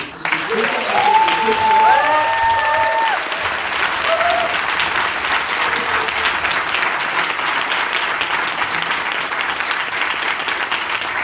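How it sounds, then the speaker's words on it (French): Sustained audience applause for demo day projects, a dense steady crowd clapping for over ten seconds, with a brief whistle or cheer near the start. "vous pouvez les applaudir bien fort"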